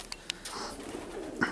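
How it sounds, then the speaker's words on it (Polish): Around twenty racing pigeons land together at a loft in Myszków, with soft cooing and a few sharp wing-flutter claps over a quiet outdoor background, the returning birds' sounds fairly faint and close. "pewnie koło blisko 20 gołębi naraz"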